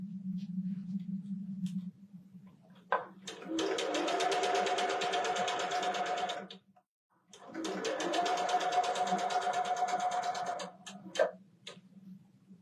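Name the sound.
sewing machine sewing quilt block pieces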